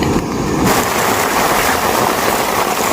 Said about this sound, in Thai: ฝนมารอบสองนะครับ